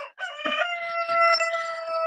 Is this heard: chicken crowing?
yes